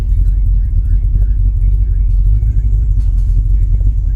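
A 1979 Corvette C3 engine idles steadily just after starting, a loud, continuous low rumble with faint higher sounds above it.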